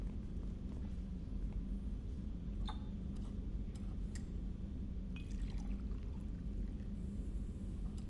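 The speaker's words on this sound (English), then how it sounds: "I have to actually pour and drink a drink" A drink poured aboard a ship in the video game Mass Effect 2 comes as faint clinks and brief liquid spatters over a steady low background hum, quiet and intermittent, with no voices.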